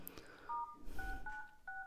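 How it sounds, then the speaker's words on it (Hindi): Smartphone keypad dial tones sound as a code is entered: several short tone pairs in an uneven sequence, clear and close, with faint handling noise between presses. "और इसे आपको इस तरह से डायल करना है।"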